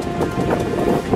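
Wind rushes across Red Valley in Cappadocia at sunset, a steady, loud broadband roar with gusty buffeting right against the microphone, and no voices.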